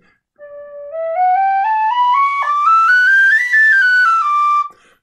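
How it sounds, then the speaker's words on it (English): A clear, pure tin whistle plays a rising run of notes, stepping upward then settling, loud and close with no other sound. "the tin whistle is a really easy instrument to play"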